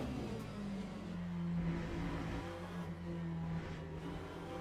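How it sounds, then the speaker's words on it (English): GT3 race car engine in the Le Mans Ultimate racing game at Spa, droning and bogging at low RPM in third gear, a steady low rumble with slight swells, close and continuous with no talk. "you really hear the car like getting stuck in the low RPM"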